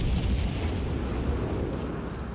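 Naval gunfire from a North Carolina battleship firing high-explosive shells in World of Warships Legends: a dense, continuous low rumble of heavy cannon blasts, loud and close, with no talk over it.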